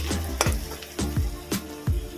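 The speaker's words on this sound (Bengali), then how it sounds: "পেঁয়াজটা ভালো করে ভাজা হয়ে গেছে" Onions fry in a pan for a chicken and potato curry, with a steady sizzle under several sharp, rhythmic scraping strokes as the onions are stirred, close and fairly loud.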